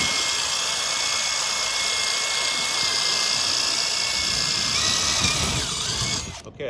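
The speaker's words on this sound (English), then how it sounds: "when I go to drill into this metal, you're gonna see that the metal's gonna peel" Power drill with a 1/8 inch metal bit boring steadily through metal, a loud continuous high whine with grinding that holds for about six seconds before cutting off abruptly.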